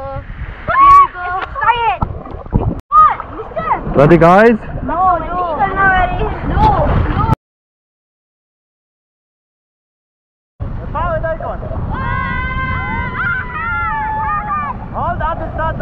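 Voices shout and chatter over wind and rushing water on a boat ride, then a gap of silence, then more excited voices over the water noise.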